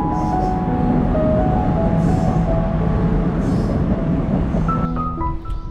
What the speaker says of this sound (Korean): 여기쯤에서 잠시 지하철 구경 좀 하고 가려고 합니다.